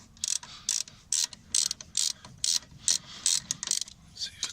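Ratchet clicking in steady bursts of rapid pawl clicks, about ten strokes with short pauses between, close and clear, while a brake caliper is unbolted on a 2002 Ford F250 7.3 diesel pickup.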